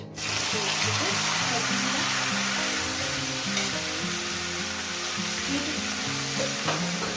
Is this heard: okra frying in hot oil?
yes